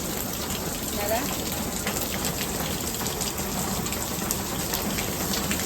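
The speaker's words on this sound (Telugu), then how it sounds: "ఇప్పుడు వర్షం బాగా పడితే కదా నీళ్ళు బాగా ఫుల్గా వస్తాయి" Heavy rain pours down steadily in a dense, even hiss that lasts throughout, with a voice speaking briefly over the downpour.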